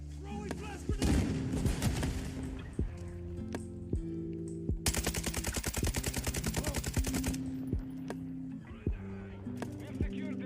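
Rapid bursts of video game gunfire crackle repeatedly over a dense, busy mix of game sounds and music, with a long continuous stretch of fast firing in the middle.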